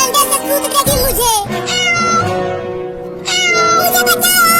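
A cat meows loudly and up close, a few drawn-out, wavering cries over background music.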